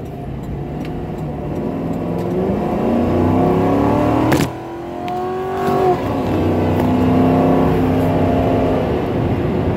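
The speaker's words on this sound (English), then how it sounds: "at least you'll get to hear the engine roar" A 2007 Ford Crown Victoria P71 police-package sedan's engine roars at full throttle from inside the car, climbing steadily in pitch, dipping briefly at a gear shift, then pulling hard again.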